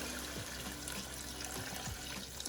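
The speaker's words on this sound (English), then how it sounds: "I'm gonna pour my coconut milk." Coconut milk poured into a cooking pot on a stove, a steady low liquid trickle and splash running throughout, fairly faint and alone.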